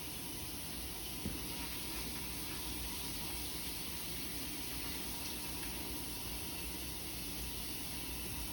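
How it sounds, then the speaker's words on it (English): A kitchen tap runs steadily while hands are washed with soap and water during raw chicken prep for Southern fried chicken, making a constant, even hiss with no pauses and no voices. "Wash this off with some water and some soap"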